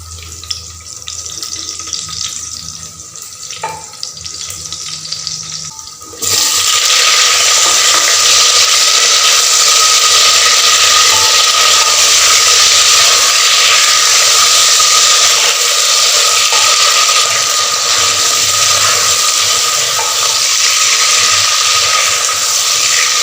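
Potatoes and carrots with garlic are stir-fried in a pan for chicken braised in tomato sauce, starting with faint kitchen noise and then breaking into a loud, steady hissing sizzle that runs on without a break.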